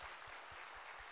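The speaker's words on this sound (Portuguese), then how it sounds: "Uma salva de palmas para Jesus." A church congregation claps in steady rhythm, dense applause filling the room at a low level without talk.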